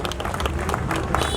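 Crowd at an Independence Day celebration clapping steadily, a dense, continuous patter of many hands applauding together at moderate loudness.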